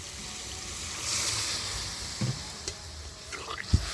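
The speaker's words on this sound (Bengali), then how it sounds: "জলটা দিয়ে দিচ্ছি।" Water goes into a pan of fried amrul greens for a sweet potato chutney, a quiet hissing sizzle that swells briefly, followed by a few small knocks and clatters near the end.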